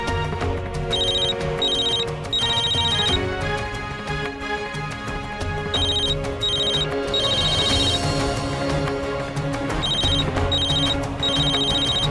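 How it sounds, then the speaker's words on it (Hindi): A phone ringtone in a Hindi TV drama scene sounds in repeated bursts of trilling electronic tones, pausing between rings, over steady background music with no talking. "आखिर ऐसी क्या बात है जो सौरा मेरा फोन नहीं पिक कर रही?"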